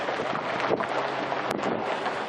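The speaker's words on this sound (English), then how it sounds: "A little windy." Steady wind buffets the microphone with a broad, rushing roar that gusts slightly at the Four Corners Monument, no voices present.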